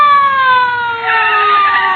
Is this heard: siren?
yes